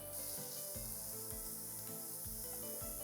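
Chopped onion, one and a half measures, cooking gently in a pan until softened without browning, giving a steady soft sizzle with faint stirring under a constant low hum, no talk.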